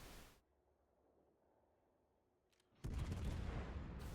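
Naval guns firing shells in a warship video game: a brief burst, then a long hush, then a loud sustained roar of gunfire and blasts that carries to the end.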